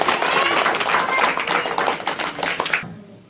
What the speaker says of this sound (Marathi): जोरात टाळ्या होऊ द्या एक वेळेस